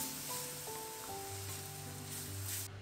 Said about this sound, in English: Add 1 pureed tomato and mix well.